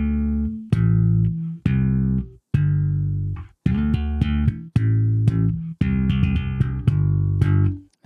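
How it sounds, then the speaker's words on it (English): Bass guitar struck with the thumb bone, knocking and ricocheting off the strings in a funky percussive rhythm, about a dozen punchy, deep, thumping notes played close and alone. "There's a bone in your thumb that works really great for knocking and ricocheting your thumb off the string to create a sound like this."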